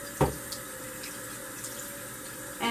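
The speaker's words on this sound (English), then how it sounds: "I just wash it until the water runs clear" Steady running tap water rinsing a makeup brush, fairly quiet and continuous, with a couple of brief louder splashes or knocks near the start and end.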